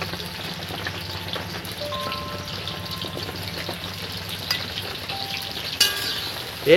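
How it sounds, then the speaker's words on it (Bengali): Whole onions fry in hot oil for khichdi, a steady rain-like sizzle with scattered pops and a louder clatter right at the end. "এবার এই যে আমি তেলের মধ্যে দিয়ে দিচ্ছি বন্ধুরা, গোটা গোটা গোটা গোটা"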